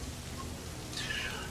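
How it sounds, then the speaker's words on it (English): Steady, soft rain patters in an even hiss with a faint distant rumble, used as a sound effect during a tabletop role-playing game session, running quietly without a break. "Rain begins to fall instantly."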